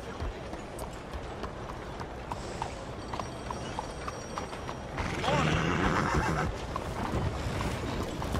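A horse in Red Dead Redemption 2 clops along at a quick running pace, with a brief whinny near the middle and a louder rush of galloping and movement in the final seconds. Faint game ambience runs underneath.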